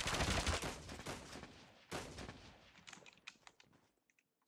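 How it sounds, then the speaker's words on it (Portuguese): Gunfire from an XPR-50 in the mobile game Call of Duty Mobile: bursts of sharp shots, loud at first, then a series of scattered, fading cracks and a sudden final pop after a near-silent gap. "Tá tentando me dar tiro de XPR-50"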